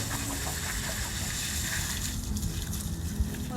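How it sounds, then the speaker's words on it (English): Water is poured onto plants in a continuous, moderately loud gushing stream that splashes steadily for a few seconds, with no talking. "I'm gonna give these plants water today."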